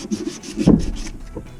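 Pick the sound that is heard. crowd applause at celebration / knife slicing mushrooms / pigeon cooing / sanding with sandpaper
sanding with sandpaper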